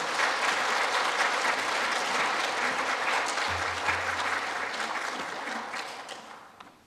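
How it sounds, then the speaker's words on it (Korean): A church congregation bursts into vigorous applause welcoming a guest preacher, a retired history professor, the dense clapping loud and sustained before gradually fading away at the close. "나오실 때 힘차게 박수하도록 하겠습니다"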